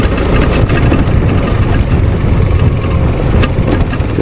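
Motorcycle running on a mountain trail near water crossings, its engine a loud, steady low rumble close to the microphone with continuous rough broadband noise and no speech.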